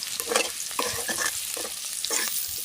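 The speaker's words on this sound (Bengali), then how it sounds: "প্রথমে কড়াইয়ে তেল দিয়ে তেলটাকে গরম করে তারপরে পেঁয়াজ মরিচ দিয়ে দিলাম" Onions and chillies frying in hot oil in a wok over a village clay stove, a bright steady sizzle with repeated spatula scrapes and stirs close by.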